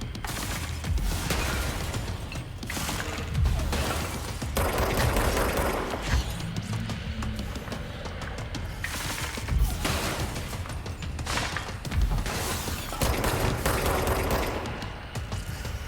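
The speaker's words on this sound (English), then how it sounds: "Okay, so shooting him is just the way to go." Shooting at enemies in the video game Control, with a dense, continuous mix of gunfire bursts, impacts and clattering mechanical noise over a steady din of combat, fairly loud throughout and with no speech.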